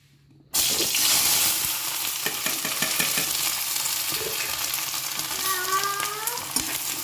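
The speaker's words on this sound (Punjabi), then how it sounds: "ਸਰੋਂ ਦਾ ਤੇਲ ਸੀ ਪਕਾ ਲਿਆ ਆ ਇਹ ਗਰਮ ਹੋ ਗਿਆ ਚੰਗੀ ਤਰ੍ਹਾਂ ਤੇ ਇਹਦੇ ਵਿੱਚ ਅਸੀਂ ਹੁਣ ਪਾਵਾਂਗੇ ਪਿਆਜ਼" Chopped onions go into hot mustard oil in a pan and sizzle loudly, a sudden burst of frying that settles into a steady crackling hiss with occasional stirring scrapes, close and alone.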